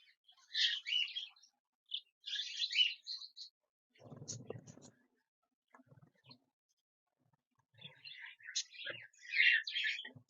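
Budgerigar chicks chirp and twitter in high-pitched bursts, with a short stretch of quiet talking in between before the chirping picks up again.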